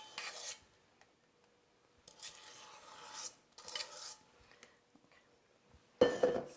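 A spatula scrapes German chocolate cream cheese brownie batter in a baking pan: a few soft, raspy strokes in short bursts separated by quiet pauses, ending with a louder scrape and a faint clink.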